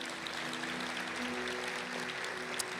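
Faint, steady applause from a church congregation at an Easter service, a soft even patter of clapping heard from a distance under a low sustained hum.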